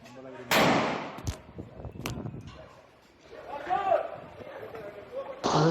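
Gunfire in a Venezuelan town during unrest: several sharp, loud cracks spaced irregularly, with distant commotion and faint voices between the shots.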